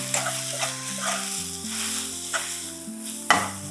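Spices with mint and curry leaves sizzle in hot oil while being stirred, a steady close fry with a few sharp scraping clicks of the spoon against the pan, made while cooking vada pav filling.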